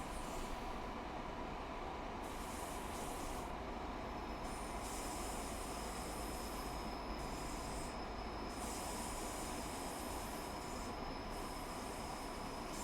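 A passenger train in Train Sim World 4 on the West Cornwall line runs along the rails with a steady rumbling roar, a thin high wheel squeal sustained throughout and faint rhythmic clatter, no voices present.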